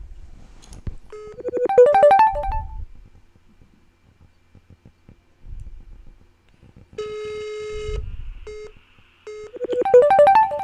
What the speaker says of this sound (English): you keep fucking ringing me on Instagram